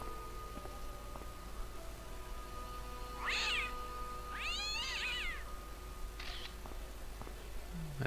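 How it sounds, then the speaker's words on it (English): A cat in the Broken Sword video game gives two clear meows, a short one then a longer wavering one, over a quiet game background with faint ticks and clicks. "There's a cat behind me."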